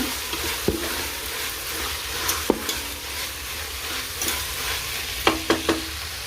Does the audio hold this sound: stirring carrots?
yes